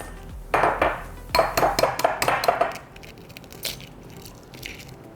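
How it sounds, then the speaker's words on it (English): Paprika and garlic powder are mixed into an egg wash for coating fish, with quick bursts of utensil clinking and scraping against a bowl that trail off into softer, sparser taps. "Now I'm gonna mix all of this up, put together my egg wash."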